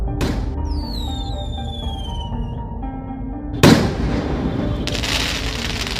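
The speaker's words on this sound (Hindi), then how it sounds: "फिर ये लोग पटाखा फोड़ने लगते हैं" Sharp Diwali firecracker bursts crack out in an animated cartoon, one early and a louder one midway, with whistling fireworks streaking above and crackling sparkle afterward.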